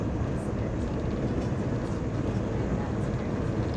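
Steady, dense rumble inside a train cruising at 123 mph between London and Edinburgh, a continuous low roar of wheels and carriage noise with no breaks throughout.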